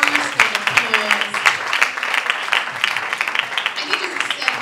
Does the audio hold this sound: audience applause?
yes